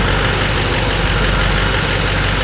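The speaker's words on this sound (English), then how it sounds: "Duramax diesel, turbo engine." A 2008 Chevy Silverado 2500 HD with a 6.6 liter Duramax turbo diesel idles close by, a loud, steady, dense rumble with no talking.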